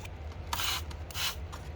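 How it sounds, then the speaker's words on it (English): Spray bottle squirting water over microgreen seeds in a growing tray, two distinct hissing bursts close to the mic with faint handling noise between. "spray the top with a sprayer to keep the seeds moist"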